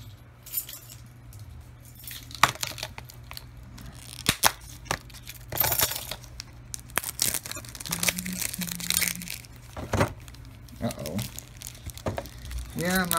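Plastic packaging on a Star Fox Zero game is cut open, giving off crinkling, tearing and scraping with a few sharp clicks and rustles, close by and intermittent while a person talks.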